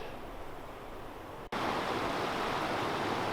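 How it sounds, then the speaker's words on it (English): A large creek in the Pecos Wilderness, New Mexico, flows with a steady, close broadband rush of water, briefly cut off midway and then resuming slightly louder and fuller. "The creek's becoming large and very pretty."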